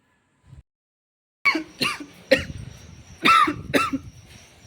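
A short faint sound, a pause, then a close burst of about five harsh coughs in quick succession.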